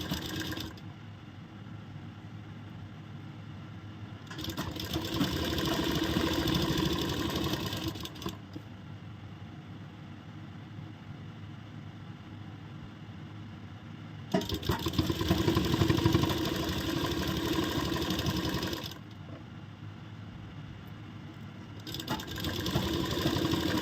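Sewing machine stitching piping onto a kurti sleeve, running in two long bursts of steady whirring separated by quieter pauses, close and alone with no talk.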